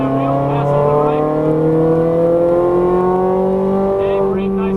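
Ferrari F430 Scuderia engine pulling hard on a racetrack, its loud, steady tone climbing gradually in pitch as the car accelerates, heard close from inside with a voice speaking over it.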